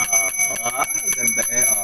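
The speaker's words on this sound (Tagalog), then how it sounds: "Yan ang ating bell." A small business good-luck bell ringing close by in repeated bright chimes, with someone talking over the ringing.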